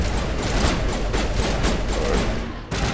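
Shotgun fire in the video game Mass Effect: repeated heavy blasts land in quick succession over a dense, noisy combat backdrop, fairly loud and close.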